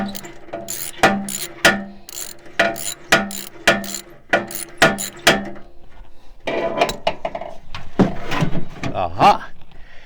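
A ratchet loosens the bolts on the guard shield of a Generac standby generator, giving a regular series of sharp, close clicking bursts followed by looser metallic rattling and scraping.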